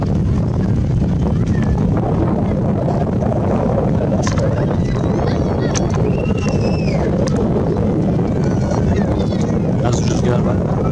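Steady outdoor wind buffets a camera on a tripod, a dense low rumble running continuously and fairly loud for the whole stretch, with faint higher chirps above it.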